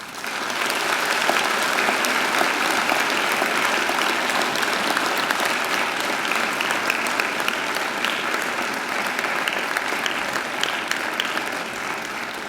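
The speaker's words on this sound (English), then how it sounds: "And now I invite you to give them a mighty round of applause." Graduates at a graduation ceremony turn to applaud their families and friends, producing a dense, steady roar of clapping that holds at an even, loud level for about twelve seconds with no break.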